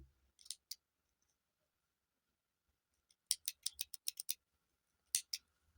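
Scissors snip through crochet yarn in three bursts: a pair of quick cuts, then after a pause a rapid run of about eight close crisp snips, and finally two more cuts, all sharp and near with no talk.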